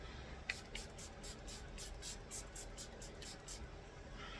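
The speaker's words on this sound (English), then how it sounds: "I think I'm going to just do my final spray real quick and let this dry." A makeup setting spray is spritzed in a quick run of about ten short, evenly spaced hissing bursts, close and fairly soft, over a faint background hum.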